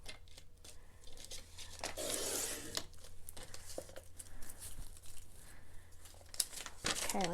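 Scissors cut paper for a honey bee envelope journal, making close, quiet snips and crinkling paper rustles that come in bursts. There is some faint talking.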